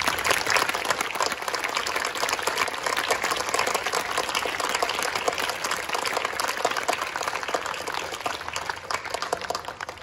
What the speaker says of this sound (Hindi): मेरे साथ मिलके जोरदार प्रशंसा की ताली